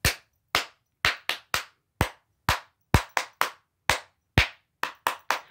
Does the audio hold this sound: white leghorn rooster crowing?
no